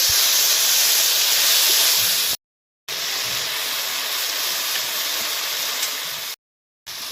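Tomato tipped into a pan of frying potato curry, giving a loud, steady hiss and sizzle that breaks off twice into brief silence before resuming.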